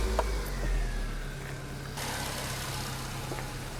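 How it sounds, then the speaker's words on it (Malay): A campervan or 4x4 engine idles steadily after starting, a low continuous rumble close by with a slight shift in tone partway through. "Saya akan hidupkan enjin kereta"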